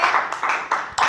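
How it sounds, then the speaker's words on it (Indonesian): A class clapping together, heard as three or four short bursts of close applause within about a second. "tepuk tangan untuk kalian semuanya"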